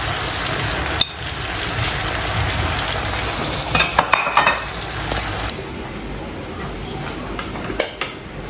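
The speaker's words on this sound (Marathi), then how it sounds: "आता कोथिंबीर वडीसुद्धा फ्राय करून घेते" Kothimbir vadi, coriander fritters, frying in a pan give a steady close sizzle throughout, with a few clinks of utensils against the pan.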